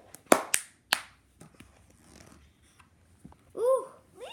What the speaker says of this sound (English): Now clap your hands once.